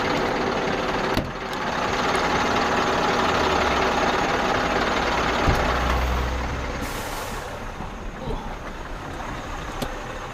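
A lorry's engine idles steadily close by with a low rumble, an air-brake hiss cutting in partway through, then the engine note eases slightly toward the end.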